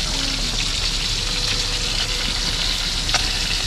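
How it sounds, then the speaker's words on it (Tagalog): Galunggong fish fry in a pan with a steady, dense sizzle that holds evenly throughout, close by and with no talking. "nagpirito ng isda kasi bumili kami ng isda kanina, galunggong"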